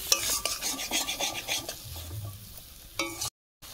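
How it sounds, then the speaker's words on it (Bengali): Spice masala of cumin powder and Kashmiri red chilli powder being stirred in a frying pan with oil while cooking potol chingri, giving a steady scraping, sizzling rhythm of spoon against pan that fades briefly before stopping. "আর ভালোভাবে মশলাটা মিশিয়ে নিচ্ছি।"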